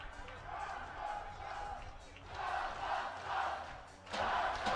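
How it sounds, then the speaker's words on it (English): Kazakhstan fans chant from the stands at a 2016 FIBA 3x3 U18 World Championships basketball game, a steady roaring crowd swelling in waves, loudest near the end. "Now you start to hear those Kazakhstan chants from the crowd here"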